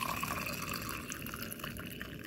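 Water poured into a cup holding a plant cutting, a steady continuous liquid splash and trickle lasting the whole moment, close and fairly loud with no talking.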